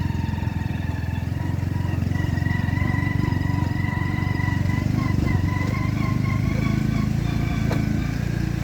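Boda boda motorcycle riding on a bumpy Ugandan road, its engine droning loud and constant, with wind and rattling layered over the continuous ride.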